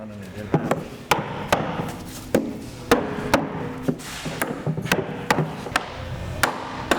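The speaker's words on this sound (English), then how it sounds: "we're loosening up the stave so we can get the end cap of the barrel out" Wooden barrel staves are knocked loose to free the end cap, giving a series of sharp, irregular wooden whacks at close range, a dozen or so over several seconds with dull resonance between blows.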